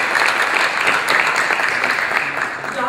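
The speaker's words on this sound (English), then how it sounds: "Everybody clap for Dr. Mackey this morning." Steady applause from an audience at a morning leadership institute session, filling the clip at an even level after an introduction, with no voice on top.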